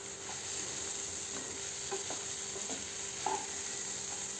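Egg bhurji, an Indian street-food scramble, is stirred in a hot pan, making a soft, continuous sizzle with occasional light clicks and scrapes from the spatula, fairly quiet and without voices.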